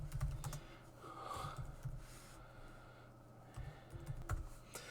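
Typing a sudo command on a computer keyboard, quick clusters of light key clicks close by over a faint background hum, with no speech.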